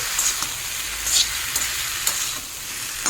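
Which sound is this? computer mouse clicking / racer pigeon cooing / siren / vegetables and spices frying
vegetables and spices frying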